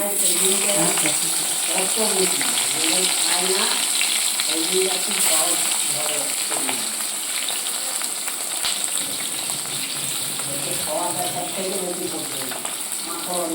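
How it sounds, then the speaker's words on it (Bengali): Fish heads fry in oil already used for frying pointed gourd, giving a steady close sizzle and crackle that runs through the whole stretch, with faint kitchen clatter alongside. "তো মাছের মাথাগুলো একটু ভেজে নিই।"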